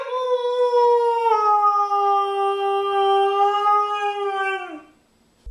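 A dog lets out one long, clear, sustained howl that holds a steady pitch for almost five seconds, then drops and stops.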